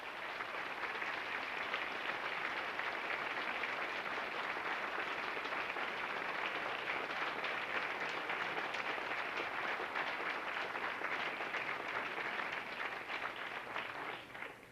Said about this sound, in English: Now we can give them that deserved round of applause.